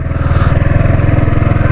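A Yamaha R15 V4 motorcycle skids through water, its engine running loud and close with a steady rapid pulsing throb and a broad wash of splashing noise over it, with no talking.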